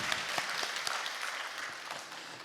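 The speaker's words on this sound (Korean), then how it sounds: "할렐루야로 하나님 앞에 영광의 박수 올려드립니다" A congregation at a Korean prayer house claps in praise as a pastor comes forward, a fairly quiet, sustained patter of many hands that thins slightly toward the end, with no speech over it.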